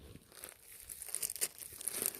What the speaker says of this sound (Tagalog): Ginugupitan ko to ng gunting.